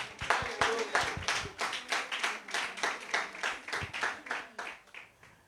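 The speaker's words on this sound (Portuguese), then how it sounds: "Você pode aplaudir a Jesus." A small church congregation claps in rhythm, a series of distinct, fairly quick hand claps that are moderately loud and fade slightly toward the end.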